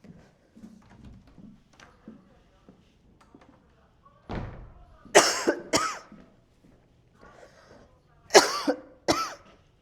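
During a lecture, a teacher coughs in two close pairs of sharp, near bursts, separated by quiet moments and preceded by soft murmuring speech.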